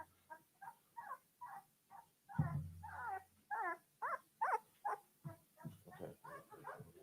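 Cane Corso puppies whimper and yip close by in a rapid series of short, high cries, with a low voice murmuring briefly in the middle.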